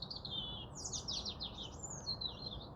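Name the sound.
European robin singing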